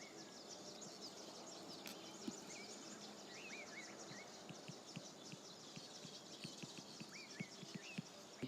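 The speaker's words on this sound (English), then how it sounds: "the first problem I'm having are the flies. They seem to have found me." Flies buzz close by in uneven bursts, with faint bird chirps scattered in the quiet background.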